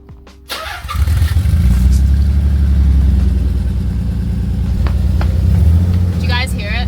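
A Nissan 300ZX engine fires up after a short pause and settles into a loud, close, uneven idle with a rough stumbling misfire pulsing through the running note.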